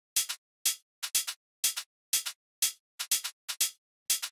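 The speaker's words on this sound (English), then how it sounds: "And then the next thing we have are these two hi-hats" Two crisp hi-hat samples from an electronic dance track alternate in a steady pattern, short closed ticks and longer open hits, bright and dry and heard alone with no voice.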